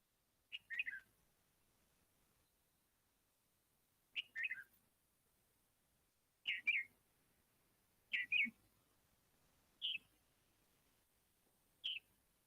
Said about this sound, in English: red-vented bulbul. First call is from Sandoli in Maharashtra, district Satara.